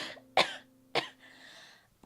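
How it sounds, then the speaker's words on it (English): A person coughs twice in quick succession, sharp and loud bursts close to the microphone, followed by a softer breathy throat sound fading out. "I'm trying to cough away from the mic, so if it's really loud, I'm so hecking sorry"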